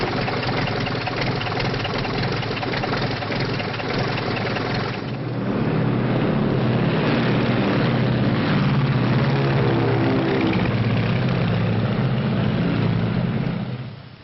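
A propeller airplane engine in a 1939 film idles steadily, then revs up into a louder, throbbing drone that holds close and constant before cutting off.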